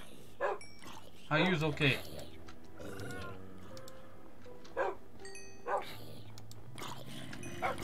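Dogs in Minecraft let out short yips and barks in a few scattered bursts during a game fight. A player talks over them, and sheep bleats appear to mix in too.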